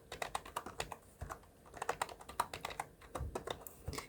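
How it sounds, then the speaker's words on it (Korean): Rapid keystrokes on a computer keyboard's numeric keypad while entering numbers into an Excel spreadsheet, a quick uneven patter of close, crisp clicks with no talking. "키보드 자판의 오른쪽에 위치해 있는 숫자 키패드를 이용을 하시면 조금 더 빠르게 입력하실 수 있습니다"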